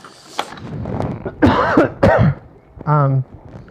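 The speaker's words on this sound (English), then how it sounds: "I just coughed away from the camera" A single sharp cough near the mic amid a few short vocal sounds and a brief voiced hum, with quiet room noise between.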